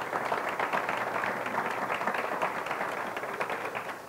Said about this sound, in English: Would you all please give him a round of applause?